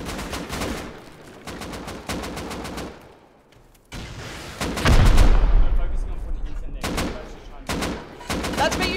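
Rust gunfire comes in rapid automatic bursts, fast rhythmic volleys broken by short pauses, with one heavier blast midway. Loud and close.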